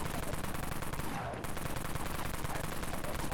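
The Aftershock heavy machine gun firing in Dead Frontier, a loud continuous stream of rapid automatic shots rattling without pause except for a brief break partway through.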